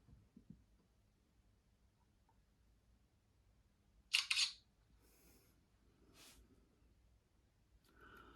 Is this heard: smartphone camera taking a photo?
yes